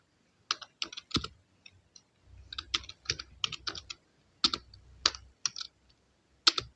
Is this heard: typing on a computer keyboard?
yes